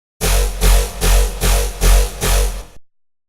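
A Serum synth preset called BA Nasty with an LFO on the chorus raising its pitch pulses loudly in about five rhythmic, gritty, bass-heavy swells before cutting off, with no voices.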